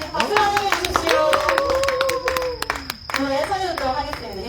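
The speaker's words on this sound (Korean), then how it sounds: "박수 환영해 주십시오" An audience claps to welcome a singer at a community cultural gathering at Seonwonsa temple in Namwon, scattered hand claps running throughout under a voice speaking over them.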